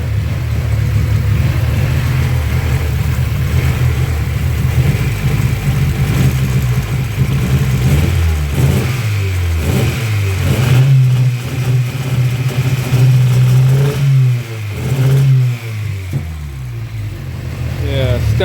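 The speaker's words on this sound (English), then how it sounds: "it's been dealing with some sort of incremental misfires for a while, and it progressively got worse to this," An Acura Integra engine with worsening misfires, idling rough and then revving, the low rumble stumbling and surging unevenly with uneven pops, loud and close, while someone talks over it.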